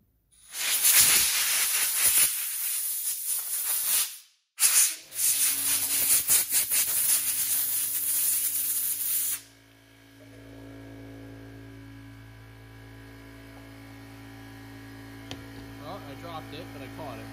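Compressed air is blown off golf cart engine parts during an engine teardown. A loud, steady hiss runs in two long blasts separated by a brief pause, then cuts off, leaving a low electrical hum.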